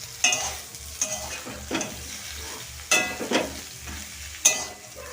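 Banana, red potato, long beans, peas and stems for Bengali shukto stirred and frying in a wok, with a steady low sizzle broken by several sharp scraping stir strokes, close and clear with no talk.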